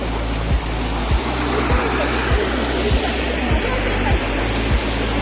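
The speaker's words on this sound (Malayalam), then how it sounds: "ഇത് തന്നെയാണ് ഈ ഏഴരക്കുണ്ട് വെള്ളച്ചാട്ടം" Ezharakundu waterfall in Paithalmala, Kannur, roars as a loud, steady rush of falling water close by, with faint low rhythmic thumps underneath.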